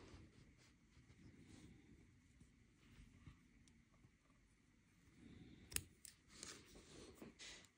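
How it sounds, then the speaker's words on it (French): Scissors snipping knitting yarn, a couple of quick faint close snips after a mostly quiet stretch with light handling rustle. "Je vais venir couper"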